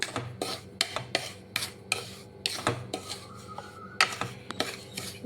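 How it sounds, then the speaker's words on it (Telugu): Rava being stirred and dry-roasted in a pan for jaggery rava laddu: rapid, repeated close scraping and clinking strokes of a spoon against the pan in an uneven rhythm, with no voices. "చూసారు కదా, ఇలా వేయించుకుంటూ ఉండాలి. బాగా ఫ్రై అయిందండి."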